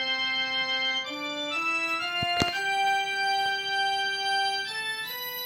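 Organ voice on a Roland Go Keys 5 keyboard plays a slow run of sustained, harmonically rich chords that shift every second or so, with a brief percussive click partway through.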